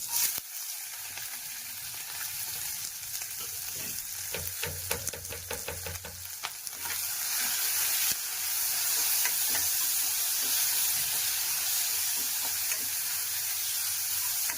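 Curry leaves, onion and two green chillies drop into hot oil for tempering, setting off a loud, steady sizzle with spatters and crackles that grows louder and denser as they fry, with stirring clatter along the way.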